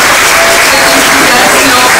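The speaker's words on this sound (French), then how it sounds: "est-ce qu'on peut applaudir pour elle?" Loud, dense applause fills a hall during a women's month event for a Congolese gathering, a continuous wash of clapping with crowd noise and voices mixed in close by.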